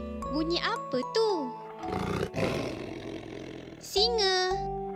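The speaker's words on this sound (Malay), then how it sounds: "Singa." A lion's roar sounds at mid-clip, a broad rough burst lasting about two seconds, set between bursts of a child's lively, pitch-swooping speech in an educational animal-sounds segment.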